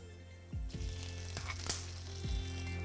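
Roasted peanuts sizzle in a pan as crushed ginger and green chilies go in. Soft, steady frying hiss is broken by a few low knocks and thuds as the ingredients drop in and are stirred.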